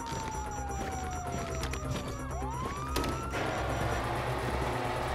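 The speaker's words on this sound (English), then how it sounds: "You hear that? Sirens!" A police siren wails with a falling tone that swoops back upward, fairly loud over traffic rumble and a noisy street scene, with no clear speech.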